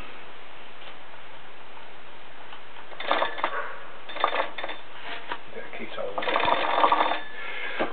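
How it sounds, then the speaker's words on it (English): A Czechoslovakian TP25 field telephone's ringer rattles in short bursts from about three seconds on, a modest, not very loud ring with brief pauses between buzzy clusters. "There's the ring. Not a real loud ring on it."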